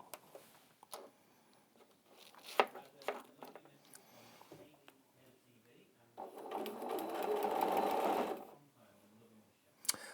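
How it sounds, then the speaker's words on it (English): A sewing machine stitches in a steady whirring run lasting a couple of seconds, preceded by scattered clicks and taps as it is handled. A person talks nearby throughout. "you want to manually turn your machine perhaps"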